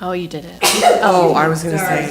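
A sneeze bursts out sharply in a meeting room amid ongoing conversation, a single loud explosive release followed by people continuing to talk over it.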